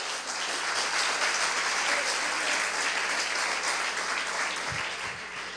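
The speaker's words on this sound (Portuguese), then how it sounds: "Glória a Deus, aplauda o Senhor." A church congregation claps together in dense, sustained applause during a sermon, loud and even throughout, with a few low thumps near the end.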